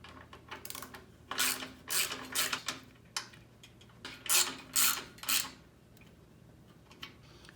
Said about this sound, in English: Let's get our bolts threaded back on. And then we'll snug them down first.